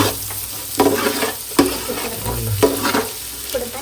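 Sliced onions and green chilies sizzle steadily in a hot pan while a spoon scrapes and stirs them in several firm, rhythmic strokes, up close with no voices.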